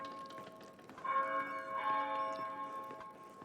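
Church bell tolling in the video game Pentiment, a clear ringing tone swelling in around a second in and sustaining under a soft ambient bed, moderately quiet and without talk.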